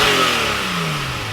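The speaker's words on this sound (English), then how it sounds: "you can actually hear the induction noise" A loud, close Porsche 991.2 engine revs and winds down over about a second, its pitch sliding lower with a raspy intake roar.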